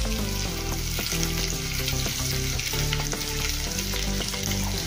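Curry leaves, asafoetida and white sesame seeds sizzle loudly in hot oil for a rice-dhokla snack, a steady dense crackle with stirring clinks throughout and no voices.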